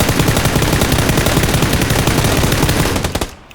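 Rapid automatic gunfire from a PUBG battle on the Miramar desert map, a dense, loud, continuous burst of shots close by that cuts off near the end, with no talking over it.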